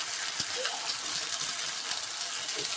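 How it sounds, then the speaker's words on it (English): Homemade pasta sauce pours steadily into a pan for ravioli, a continuous close wet gushing stream with small splashy bursts, no talking. "This is some of my homemade sauce. I'm just going to pour this in here."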